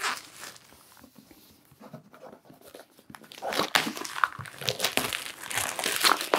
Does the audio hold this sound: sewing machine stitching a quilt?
no